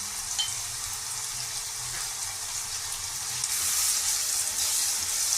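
Onions frying with a pinch of salt in a pan, a steady close sizzle that swells louder toward the end, with no talking.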